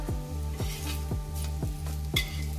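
Shrimp patties (jawla vadi) fry in hot oil, a steady close sizzle punctuated by regular soft clinks of a utensil in the pan, about twice per second.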